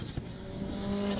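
Modified Ford race cars roar along the back straight at Snetterton circuit, a loud sustained engine drone with rising pitch as they accelerate past.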